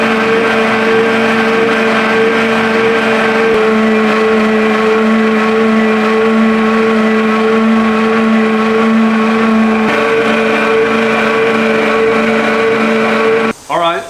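Cord car engine cranking over on a repair bench, a steady droning hum with sustained tones that shift partway through and cut off abruptly near the end, loud and close with no talking.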